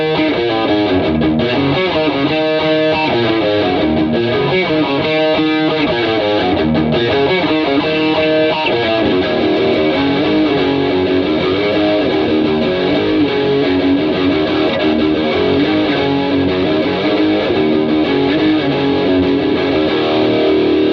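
Electric guitar riff played through a Rev G3 distortion pedal, a thick, saturated distorted tone with steady chugging notes and sustained chords, loud and continuous for the whole stretch.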